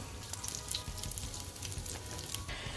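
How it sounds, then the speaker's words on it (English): Egg rolls fry in shallow oil, sizzling and crackling steadily at close range, a continuous frying hiss with no talking. "this is what I mean by frying them without a lot of oil"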